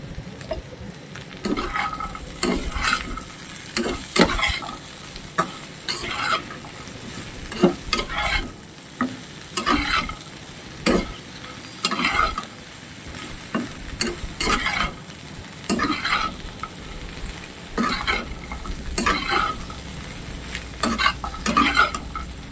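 Small Sundarbans crabs, fried with salt, turmeric and chili, sizzle alongside potato and okra while a spatula scrapes and knocks the pan in a steady rhythm, close and continuous with no talking.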